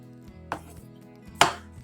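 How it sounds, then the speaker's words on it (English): Knife chopping hot fried chicken breast into cubes on a cutting board: two crisp, sharp chops about a second apart, close and clear, with faint kitchen background between. "I am chopping it up"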